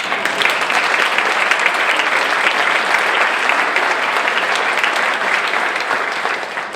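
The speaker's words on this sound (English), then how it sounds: "Now you can applaud all of them." Sustained audience applause at a Chamber of Commerce address by Massachusetts Governor Healey, steady and loud throughout with no speech over it, tapering slightly at the end.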